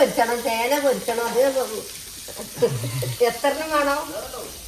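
Fish frying in a pan in a home kitchen gives off a steady sizzle that sits beneath a voice talking almost throughout.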